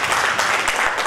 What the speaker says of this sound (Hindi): सबसे पहले मैम के लिए तालियां हो जाए एक बार जोर से